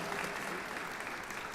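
Hall of fame induction ceremony audience clapping, a dense, even burst of applause from a seated crowd in a hall, with a voice faintly beneath it.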